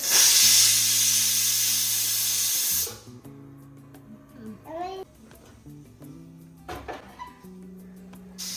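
A pressure cooker's loud, sharp hiss of steam blasts for about three seconds, then cuts off, leaving a quieter room where a voice and other chatter follow.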